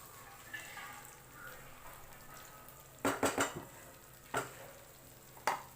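A spoon stirs shahi paneer with unfried paneer cubes in a pan. A soft simmering sizzle runs underneath, and several sharp clinks of the spoon against the pan come in quick bursts near the end.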